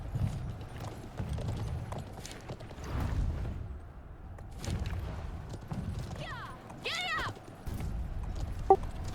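Horse hooves clip-clopping across stone in the medieval siege game Conqueror's Blade, a rhythmic patter of steps beneath game sounds, with a brief chirpy effect and occasional voices.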